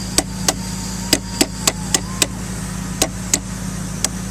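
Steel chisel striking marble during contour carving of a sculpted face, a series of about a dozen sharp, bright taps at an uneven rhythm, close up over a steady low mechanical hum.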